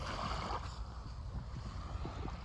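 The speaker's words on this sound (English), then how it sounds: "Waves come in, and once they get over this crest, when this next wave comes, you'll be able to see it." Ocean waves washing onto a beach in dense fog near a small tide pool, a low, soft rolling surge heard up close, faint and continuous without speech.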